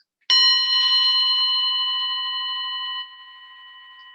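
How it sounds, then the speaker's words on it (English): A meditation bell struck once, ringing out clear and sustained with steady bright overtones that slowly fade, heard alone in a quiet room with no talking. "meditation bell."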